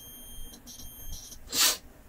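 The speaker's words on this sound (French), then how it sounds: "Donc quand ça se touche, ça va biper, tu vois." A multimeter gives a single short, sharp continuity beep as its probes touch ground points on a Nintendo Switch under repair, clear against a quiet background.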